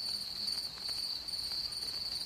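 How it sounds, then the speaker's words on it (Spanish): A cricket chirps in steady, shrill pulses, close and clear over a faint background hum, with no voices. "hay una plaga de grillos"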